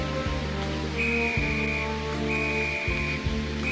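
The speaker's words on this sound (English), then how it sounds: "The guard blew his whistle till he had no more breath" A railway guard's shrill whistle blows in two long sustained blasts over a busy, rumbling mechanical background with steady hum and periodic thumps.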